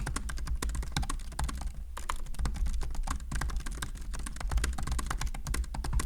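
Fast continuous typing on a Max mechanical keyboard, close-up keystrokes clacking in a dense stream with a short pause near the middle, no voices.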